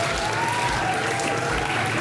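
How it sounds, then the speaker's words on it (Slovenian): An audience at a quiz on European capital cities breaks into steady, even applause, a dense continuous clatter of clapping that holds for the whole stretch without a pause. "Čestitke, ja, lahko aplavz"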